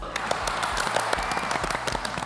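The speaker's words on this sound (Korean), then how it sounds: "우리 속도를 맞춰준 옆에 친구한테 같이 박수!" A group of children clapping together for their friends during a playtime activity, a quiet, lively patter of many small claps mixed with faint voices.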